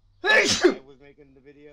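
A single sharp, close sneeze bursts out mid-conversation, followed immediately by someone speaking.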